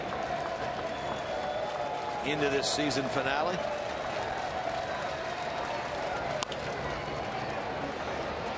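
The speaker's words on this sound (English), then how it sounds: "There's been an enthusiastic crowd here today" A crowd at a Pirates versus Reds baseball game in Cincinnati gives a continuous, moderate roar of cheering and applause, heard beneath a commentator's voice, with one brief sharp crack near the end.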